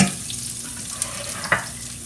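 Dinner for green popcorn frying in a pan, a steady soft sizzle hissing close by with a couple of brief clinks as it is stirred.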